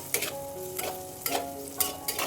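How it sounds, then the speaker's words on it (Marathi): Ground spices such as turmeric, coriander powder and garam masala stirred into hot oil in a pan for a village-style spring onion and dried shrimp dish, with a steady sizzle broken by several scraping stirs. "आता हे मसाले आपण तेलामध्ये छान मिक्स करून घेऊया।"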